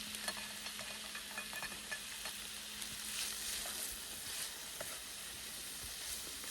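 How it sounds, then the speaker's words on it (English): Spicy sloppy joe stirred in a pan over a freestyle firebox outdoors in the snow, a quiet, steady frying sizzle with light scraping and faint ticks, heard at a distance. "So we'll give this a bit of a stir"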